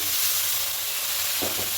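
Spices fry in a wok for a vegetarian paneer curry, giving a steady, close, bright sizzle with a soft stir or scrape near the end.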